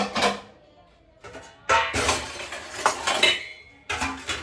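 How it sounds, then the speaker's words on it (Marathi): Dishes and utensils are set down and stacked in a home kitchen at night, with bursts of clinking and clattering separated by brief pauses, close and fairly loud. "आता मी पहिले तर रात्रीची भांडी लावते खूप भांडी"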